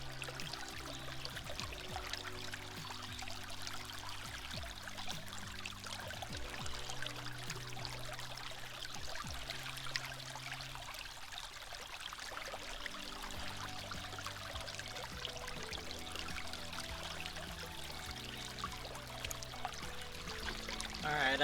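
Water and gold-bearing gravel rush steadily through a prospecting sluice with a micro mat, a constant pouring, trickling wash with faint rattling beneath, continuous and moderately quiet with no voices.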